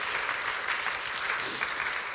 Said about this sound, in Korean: 우리 한 번 더 박수로 환영하면 좋겠습니다.